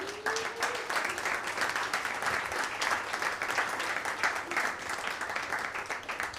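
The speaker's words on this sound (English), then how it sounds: "Come on, keep clapping." Comedy club audience applauding at the end of a stand-up set, a loud, sustained roar of clapping from a packed room, dense and even with slight swells and no talking.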